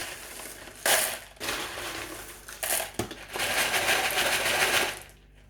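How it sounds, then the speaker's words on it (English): LECA clay pebbles poured into a houseplant pot for semi-hydroponic growing: a loud, dense rattling and crunching rush of many small pebbles, continuing for several seconds with brief surges and pauses before stopping. "So I will put a layer of leca, just a quarter of the, obviously I'll make a bit of noise."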